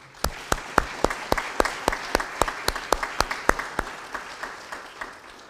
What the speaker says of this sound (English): if we can give all recipients a nice round of applause